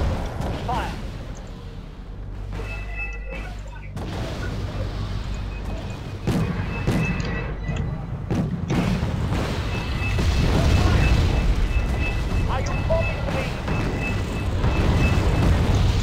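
Artillery fire and explosions in a war video game come as repeated heavy booms and blasts, some sharp and some rumbling, over a continuous battle din.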